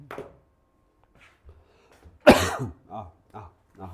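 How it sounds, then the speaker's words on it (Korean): A single sharp cough cuts through a quiet classroom lecture, with a voice speaking softly before and after it. "기침."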